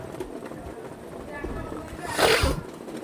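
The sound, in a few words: pigeons cooing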